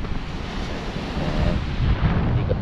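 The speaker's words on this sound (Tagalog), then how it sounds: "Lakas ng hangin, ano?" Strong gusts buffet the microphone at a beach campsite in Dinahican, Infanta, Quezon, a heavy low rumble that swells and surges, with surf-like roaring and no voices.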